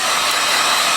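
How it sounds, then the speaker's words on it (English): A loud, continuous rush of hot air from a heat gun used on peeling leather, steady and hissy with no pauses. "we use a heat gun for the videos"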